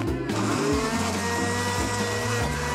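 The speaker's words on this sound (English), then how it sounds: "I'll put it in the blender." An electric blender whirs loudly and steadily with banana, kiwi and raspberries inside, its motor pitch shifting in stepped surges as the fruit churns.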